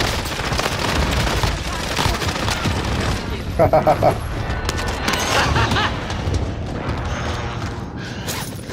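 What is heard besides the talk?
precision airstrike explosions in a video game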